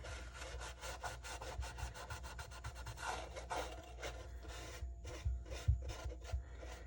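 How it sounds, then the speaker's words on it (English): A dye-soaked rag rubs back and forth over the flamed maple top of an ES-335 kit guitar body, a quick, even series of soft scrubbing strokes, close and fairly quiet, with a few heavier thumps near the end. "This rag is plenty saturated for me to go all over the body of the guitar."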